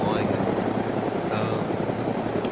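A helicopter in the ArmA II DayZ video game drones with a steady rotor hum and engine whine, loud and constant, while someone talks over it.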